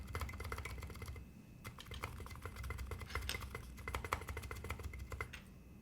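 Typing rattles on an electro-capacitive keyboard, a dense, steady patter of soft thocky keystrokes with occasional deeper spacebar presses, close and uninterrupted by talk.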